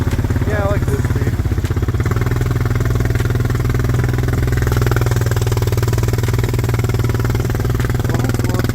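A dirt bike engine chugs along at a slow crawl of about two miles an hour, a close, steady low-pitched rumble with clattery ticking, while people talk over it.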